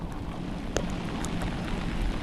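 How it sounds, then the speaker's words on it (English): Heavy rain falls around a scooter rider by a dam in northern Kanchanaburi during the rainy season, a constant hissing patter with a few sharper drops and some wind buffeting the microphone. "There's no sign of this rain stopping, so I am soaked."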